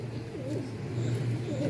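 Malwahyi pigeons coo softly and steadily, their low rolling calls close by and layered over a faint background hum, with no talking.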